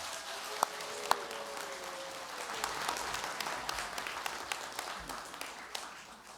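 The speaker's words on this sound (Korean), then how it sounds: "박수로 환영해 주시기 바랍니다." Scattered applause from an audience, steady but fairly subdued, with a few sharper individual claps standing out near the start.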